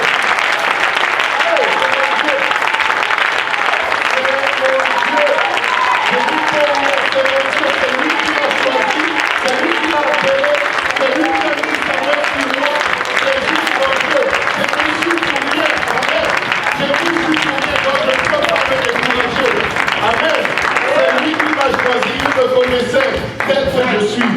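A church congregation applauding in praise, sustained dense clapping from a large crowd that fills the room steadily for the whole stretch, with voices mixed underneath.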